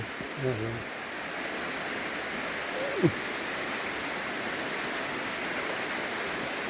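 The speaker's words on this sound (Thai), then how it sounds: "ฝนก็กำลังตก พี่น้อง" Rain falling in a rice-farming area, a constant even hiss of drops filling the scene, with a brief voice near the start and a short squeak-like sound midway over the downpour.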